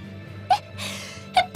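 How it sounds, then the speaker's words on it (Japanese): Two quick, sharp sneezes from a character in the Tales of Berseria video game, each a short burst, heard over a low steady background hum with a soft breathy sound between them. "おや、くしゃみが伝染しとるのか。"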